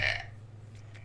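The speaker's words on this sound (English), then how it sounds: "she just starts burping" A woman lets out a single short, loud burp from a played burping compilation, a quick throaty croak that cuts off into faint room noise.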